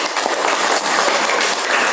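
A class of children claps together in a classroom, a dense, steady patter of many small hands lasting throughout, fairly loud and close, with no voices over it.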